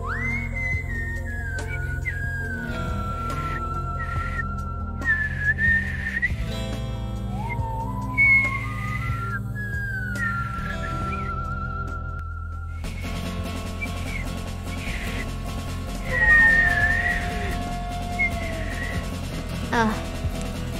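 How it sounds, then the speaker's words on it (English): A person whistles a series of rising and falling melodic phrases, clear and close, with some held notes and quick slides, over a steady low background hum. "Yeah, I can whistle"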